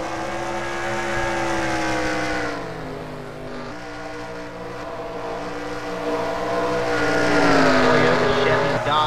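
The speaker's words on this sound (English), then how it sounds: "James Manuel running in second" Stock cars race at Bristol, a roaring pack of engines that swells and fades as the cars pass, loud and continuous throughout.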